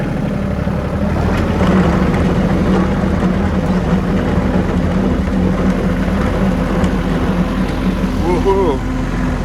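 A tractor with a raised front bucket drives along in gear, its engine a loud, steady, continuous rumble close by, with someone talking over it.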